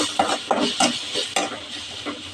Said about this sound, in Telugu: ఆనియన్ వేగినాయి.